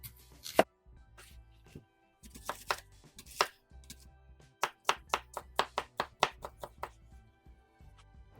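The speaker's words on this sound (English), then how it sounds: "Let's get our onion chopped up." Onion being chopped with a knife on a cutting board, a run of sharp, close taps that starts sparse and quickens into a rapid rhythmic burst, with no talk.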